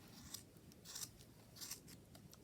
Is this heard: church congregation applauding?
no